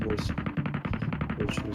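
Rapid automatic gunfire in PUBG Mobile Metro Royale rattles out in a sustained burst of closely spaced shots, loud and unbroken for the whole stretch.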